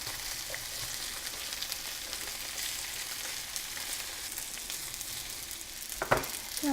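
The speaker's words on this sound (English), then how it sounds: "So I'm going to add some noodles" Cooked spaghetti noodles dropped into a hot frying pan give a steady broad sizzle throughout, with a brief sharper clatter of the noodles hitting the pan near the end.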